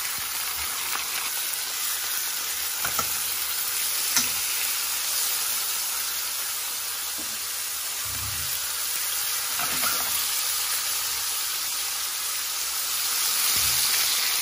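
Veal chops brown in a frying pan with a steady, hissing sizzle throughout, broken by a few faint low knocks and no talk.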